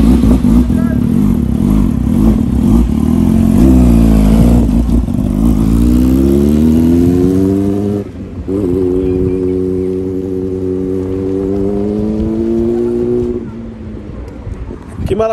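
A Yamaha R6 sport motorcycle's engine revs loudly and pulls away, its pitch climbing in long sweeps and then settling into a steady drone, close by with no talk over it.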